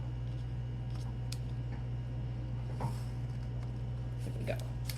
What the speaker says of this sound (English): we're going to cut those little pieces away